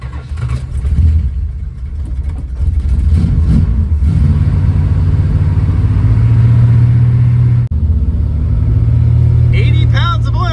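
1967 Dodge Coronet engine that won't idle, cranking and then revving with a loud, rough, steady roar that dips briefly before resuming, with people talking nearby.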